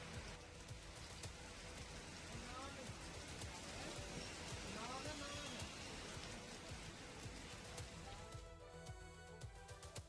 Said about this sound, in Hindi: वहीं बिहार के मोतिहारी में जोरदार बारिश दर्ज की गई है